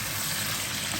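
Mushrooms frying in a pan for kimchi fried rice, making a continuous dense sizzle and crackle at a steady level throughout, with no talking.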